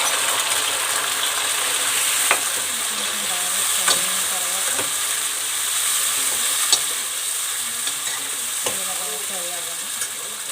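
Onions, tomato, green and red chilies and curry leaves fry in hot oil for a tamarind-based ulava kattu, a steady loud sizzle running throughout with occasional sharp crackles and utensil clinks, no talk.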